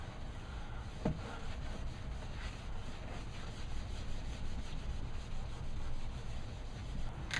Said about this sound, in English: Let's see if we can get this old eraser to work here.